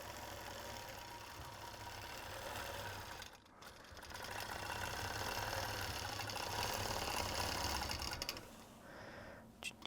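A sewing machine stitches a red maple leaf design, its steady mechanical whir running almost throughout with a brief pause partway, fairly loud and close with no talk over it.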